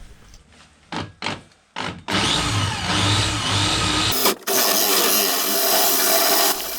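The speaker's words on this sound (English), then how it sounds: "While cutting big holes into this thick aluminium plate, my old drill machine really comes to its limits." An old drill machine bores big holes through thick aluminium plate for mounting a boat heater, with short bursts at first, then a loud, sustained grinding whine that strains, cuts out briefly, and resumes close by.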